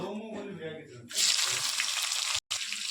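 Onions dropped into hot oil left from frying chicken, a sudden loud, close sizzle that holds steady after some quieter kitchen sounds.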